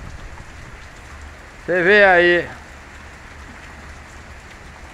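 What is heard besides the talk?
heavy rain falling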